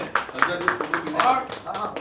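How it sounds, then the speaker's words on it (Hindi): An audience claps at the Shaheed Dada Saheb Amiruddin Gaurav Award 2024 event, a short run of distinct, fairly sparse claps rather than a dense roar, with a voice faintly mixed in. "रमेश गोयल जी के लिए भी जोरदार तालियां हो जाए"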